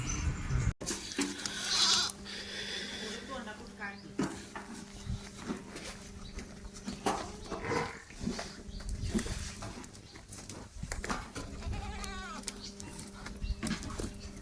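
Several billy goats and kids bleat at irregular intervals over a noisy background with rustling and occasional knocks; calls come from close by, some wavering and drawn out.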